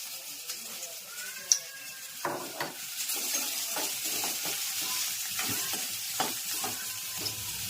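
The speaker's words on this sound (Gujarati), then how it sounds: "સરસ મજાનો ટીંડોરાનો વઘાર થઈ ગયો છે." Ivy gourd tempering with turmeric and salt sizzles steadily in hot oil in a cooking pan, a continuous frying hiss broken by a few stirring scrapes and small crackles.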